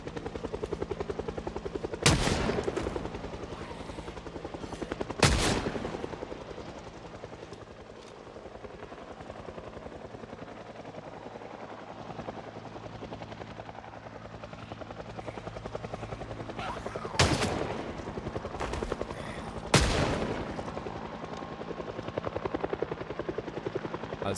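A video-game helicopter drones steadily throughout, its rotor noise filling the scene while a few sharp bursts of gunfire crack out at intervals, fairly quiet overall.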